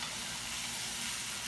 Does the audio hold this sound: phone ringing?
no